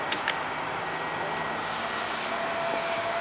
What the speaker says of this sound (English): You're gonna see the spindle is already moved.